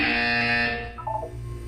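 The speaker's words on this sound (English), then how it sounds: "When you hear the buzzer, look up at the ceiling." A loud, harsh electronic buzzer from the video game Portal blares for about a second, then cuts off, leaving a low hum.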